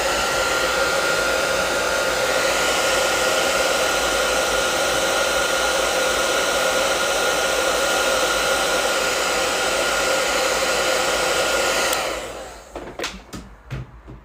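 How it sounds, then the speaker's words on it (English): A hairdryer blows steadily and loudly over wet watercolor paint for about twelve seconds, then cuts off, leaving a few faint clicks and knocks. "I need to hit this with a hairdryer real quick."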